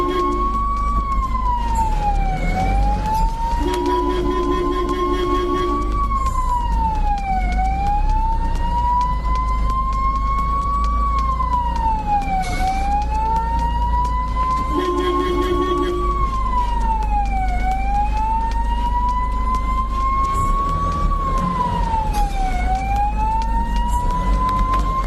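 Ambulance siren in Kerala, a loud, continuous wail rising and falling in long repeating sweeps over a low engine rumble, with a brief extra tone at intervals and no clear talk.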